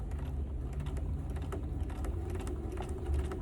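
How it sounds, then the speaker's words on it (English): Sewing machine stitching a fabric seam, a close, steady mechanical whir with fast rhythmic needle clatter running continuously, and no talking. "I'm going to continue stitching"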